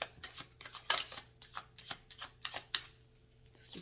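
Tarot cards being shuffled by hand: a quick run of crisp riffling flutters and soft slaps in an uneven rhythm, close and clear over a faint steady hum, with no talking.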